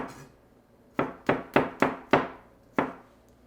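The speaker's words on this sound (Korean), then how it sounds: "마늘은 튀겨줄 거니까 가능한 얇게 썰어주면 되고요" Knife slicing garlic thinly on a cutting board for frying, six sharp close chops in an uneven rhythm after a quiet start.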